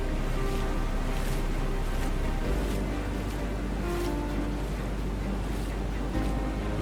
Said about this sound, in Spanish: El sonido de los cascos golpeando el río y los relinchos resonaron por todo el valle de Mara.